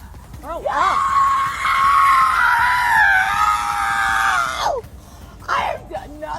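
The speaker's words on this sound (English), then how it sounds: "Stop screaming! Grow up!" A woman screams during an arrest at a roadside stop: a long, loud, wavering shriek lasting several seconds, then breaking into shorter strained cries and yelps.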